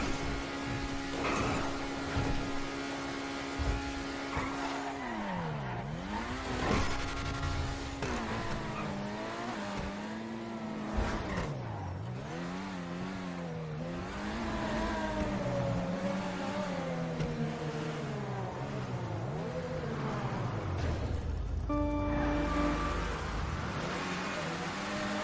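A car driving in GTA V, its engine revving up and down in repeated swells with shifting pitch, close and steady for about 25 seconds, a few tire squeals and passing sounds mixed in and no talk.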